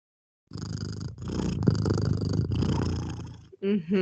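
A close, continuous cat purr rumbles in steady breathing cycles with brief pauses, ending with a couple of short higher vocal sounds.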